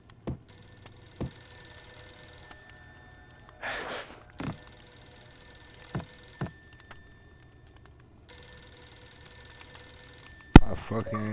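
In the video game Max Payne, a telephone rings with faint repeated tones over a quiet hum, broken by scattered clicks, a brief breathy sound and a sharp bang near the end.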